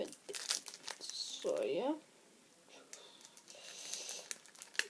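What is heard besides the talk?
opening a Disney card pack wrapper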